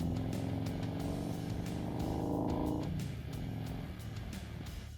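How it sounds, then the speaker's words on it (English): A Harley-Davidson CVO Road Glide heavy American cruiser engine hums steadily and loudly, rising in pitch, then dropping off sharply as it settles to a lower rumble. "Number 10. Harley-Davidson CVO Road Glide."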